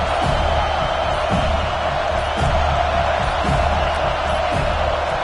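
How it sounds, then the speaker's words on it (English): A stadium crowd at an FSU college football game roars in a dense, steady wall of noise, sustained at full volume throughout with occasional swells. "with this place rocking, the crowd forces a false start"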